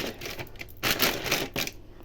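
Hard frozen berry cubes clatter and rattle inside a plastic bag, a busy close-up rustling and knocking that swells and eases.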